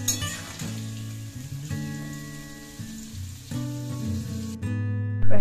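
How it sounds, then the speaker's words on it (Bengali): Potatoes and carrots fry in a pan with a little salt and turmeric for vegetable khichuri, giving a steady, fairly soft sizzle that runs under background music. "প্রথমে আলু আর গাজরগুলোকে ভেজে নেব।"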